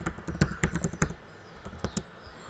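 Quick keystrokes on a computer keyboard, close by, in a brisk run of taps followed by a brief pause and a few final presses, without any voices.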